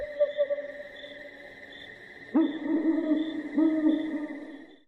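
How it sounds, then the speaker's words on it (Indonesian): An owl hoots softly over a steady, eerie droning tone, with a sudden swell in the middle and more hoots layered into a quiet night ambience. "Suara burung hantu samar terdengar."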